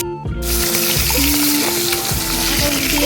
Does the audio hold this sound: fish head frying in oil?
yes